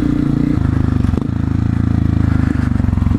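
A Honda CRF 250 F off-road motorcycle engine runs steadily and close up, a loud low throbbing hum with a brief dip and shift in pitch near the middle, with no talk over it.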